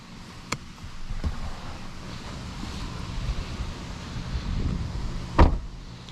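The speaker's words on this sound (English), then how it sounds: "Very solid door sounds." Two or three solid thuds of a 2025 Volvo V60 Cross Country car door closing, the heaviest near the end, set against a low wind-like background hum.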